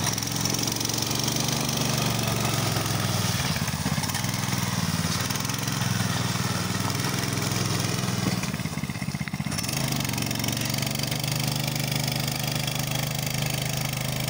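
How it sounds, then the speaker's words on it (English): A Coleman KT196 go-kart's small gas engine runs steadily in the snow, a loud, constant buzzing drone that holds for the whole stretch, with a brief dip near the end and no talking. "we're going to see if the Coleman KT196 go-kart can do any good in the snow"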